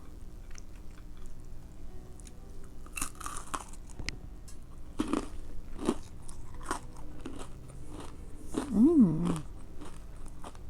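Crunchy bites and chewing on a chocolate covered pretzel, close and crisp, with repeated crackling crunches spread across the stretch and a few louder snaps near the end.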